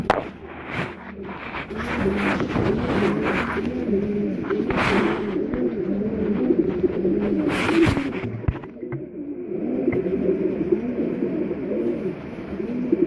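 Racing pigeons coo steadily inside a loft, layered overlapping calls forming a dense continuous murmur at close range, with a few sharp knocks and wing flutters breaking through.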